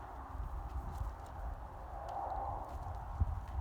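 A barrel racing horse's hooves thud softly and irregularly on the ground as it turns around, quiet and somewhat distant, with a slightly louder strike near the end.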